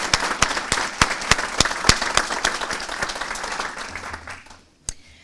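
Audience at a city's State of the City address clapping: a lively burst of applause with distinct claps, fading out toward the end, followed by one last isolated clap.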